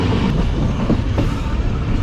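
Passenger train rolling along the rails at speed on the Allama Iqbal Express, a loud continuous rumble with faint clickety-clack of wheels and light metallic squeaks, no talking.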